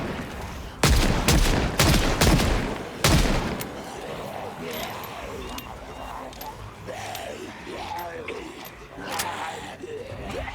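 Revolver gunfire in the video game Big City Burger Flipper: a quick string of four or five loud, sharp shots, then quieter game sounds. Someone speaks over the later part.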